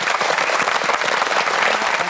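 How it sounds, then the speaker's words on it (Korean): Loud, dense applause from a television studio audience, a continuous close clatter of many hands with no speech. "박수를 한번 청해 보도록 하겠습니다"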